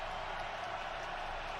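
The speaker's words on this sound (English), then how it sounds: "You hear the crowd already." A football stadium crowd at a Los Angeles Chargers versus Jacksonville Jaguars AFC Wild Card game roars in a steady, dense wash of cheering.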